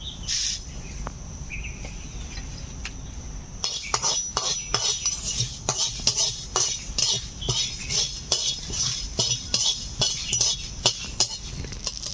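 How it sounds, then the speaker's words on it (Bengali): Dried chillies, panch phoron and mustard seeds dry-roasting in an empty pan for a bamboo shoot pickle: faint rustling at first, then a rapid run of close scraping and clinking stirring strokes, without speech. "এখান থেকে কিছুটা 5 ফোড়ন আমি শুকনো খোলায় ভেজে নেব"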